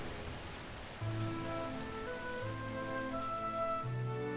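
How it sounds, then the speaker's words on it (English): Steady rain hisses in a continuous wash, fairly soft overall, with gentle sustained musical tones drifting over it. "standing in the downpour, was a young woman"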